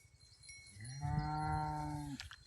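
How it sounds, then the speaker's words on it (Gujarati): Cattle at a Gujarati farm shed give one long, loud moo as the cows come back from grazing, the low harmonic call swelling and fading over about a second amid soft farmyard background. "બધી ગાયો આવતી રહી"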